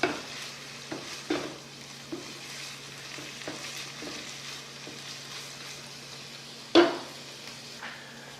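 Bacon sizzles steadily in a frying pan while a utensil stirs it, with scattered scraping clicks against the pan and one louder clatter near the end, no talk.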